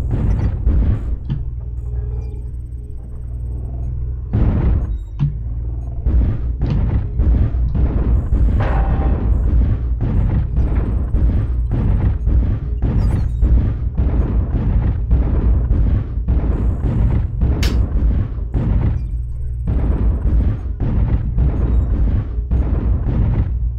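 Explosions and weapon blasts in a battle of mechs in the Polar Highlands, a dense run of loud, close booms and bursts firing in rapid succession for over twenty seconds with almost no pause.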